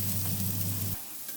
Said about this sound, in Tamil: இது வெங்காயம் வதங்கி வரட்டும்